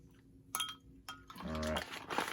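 A spoon stirs an endothermic homemade ice cream mixture, giving a short run of soft scrapes and light clinks, close and fairly quiet.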